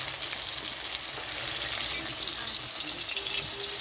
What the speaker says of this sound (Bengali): এখন আমি ছিমটা ভাজতে দিয়েছি।